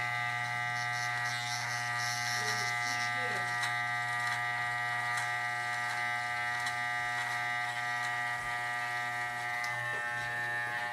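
Electric hair clippers buzz continuously at close range while cutting a man's hair, a steady motor hum with a person talking over it.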